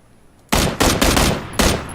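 Automatic gunfire in the PUBG (Battlegrounds) video game, with loud full bursts that start suddenly and keep going, broken by a few distinct shot clusters across two seconds.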